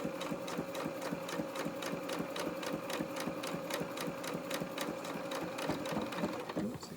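A sewing machine stitches a vinyl-fronted project bag with a fast, even mechanical clatter. It is close and continuous, with a slight slowdown near the end.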